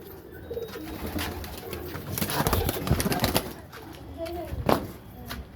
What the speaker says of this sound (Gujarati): જો આપણા કબૂતર કેમ બાકી ઉડે